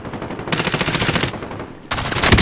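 Rapid machine-gun bursts crack out in a shooter game, sustained volleys of automatic fire with a short lull before another close, loud burst.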